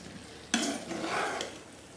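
Ridge gourd sabzi is stirred in a pan, starting with a sudden scraping clatter of the spoon, then a soft wet stir and a low sizzle, close and quiet with no voices.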